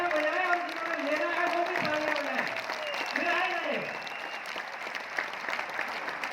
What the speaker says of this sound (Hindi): जिन्होंने लिया है वो भी तालियां बजाएं, और जिन्होंने लेना है वो भी तालियां बजाएं।